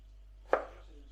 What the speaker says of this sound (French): Il faut hacher l'ail.